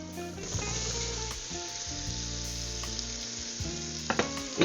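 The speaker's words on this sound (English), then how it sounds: "I'm going to add them to the butter," Diced celery, carrots and small peeled turnips sizzle steadily in melted butter, with a continuous frying hiss and a few scraping clinks near the end.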